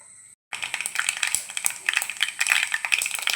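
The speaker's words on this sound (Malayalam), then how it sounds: "കടുക് പൊട്ടി തുടങ്ങി." Mustard seeds popping in hot coconut oil for a Kerala soursop curry: a dense, continuous crackle of rapid, sharp little pops close by, starting abruptly after a brief silence.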